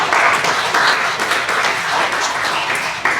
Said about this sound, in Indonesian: Mungkin tepuk tangan dulu untuk kita semua